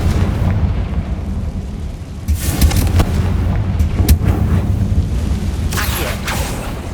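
The Confringo fire spell in Hogwarts Legacy goes off in a booming blast with crackling bursts, followed by a second explosive hit a few seconds later over a steady rumbling game backdrop.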